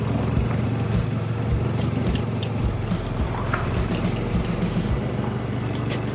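A motorbike ridden with the rider standing on an empty road, its engine holding a steady low drone close by, with wind rumble over the microphone and no gaps throughout.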